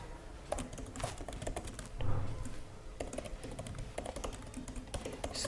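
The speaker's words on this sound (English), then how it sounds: "Let's type" Rapid, steady clicking of computer keyboard keys under constant close typing, with brief pauses and a slightly louder thump midway.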